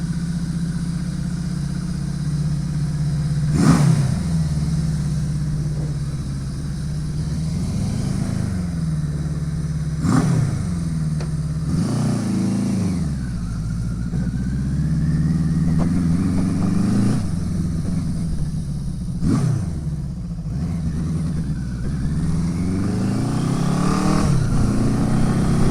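A Suzuki GS850 scrambler motorcycle engine runs close and loud, its revs repeatedly rising and falling with sharp throttle blips as the bike pulls away and shifts gears.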